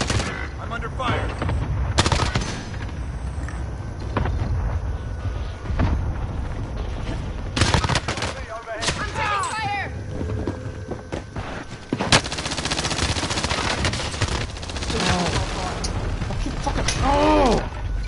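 Rapid bursts of gunfire from a PS4 shooter game crackle throughout, repeated volleys and single shots mixed with battle noise, while a player talks over the action.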